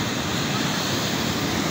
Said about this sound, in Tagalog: Tinan niyo po ba naman mga kamarkit kung gaano kalalaki talaga ng alon na yan.